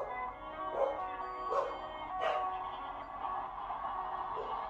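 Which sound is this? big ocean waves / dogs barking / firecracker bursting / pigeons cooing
dogs barking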